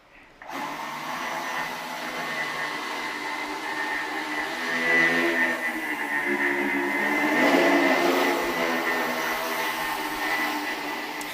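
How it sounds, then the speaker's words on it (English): A two-part quadcopter drone flying as one machine, a steady loud whirring buzz of spinning propellers that swells and holds for about ten seconds, with no voices. "When you put them together, they behave like one high-performance quadricopter."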